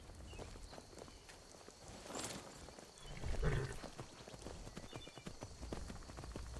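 Horse hooves clip-clopping at a steady walking pace while riding in Skyrim, fairly close with some ambient game noise around them and a brief louder swell in the middle.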